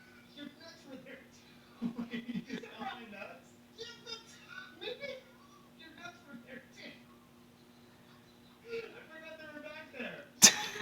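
A single sharp, loud sneeze bursts out right at the end, after a stretch of casual, quiet talking by several people.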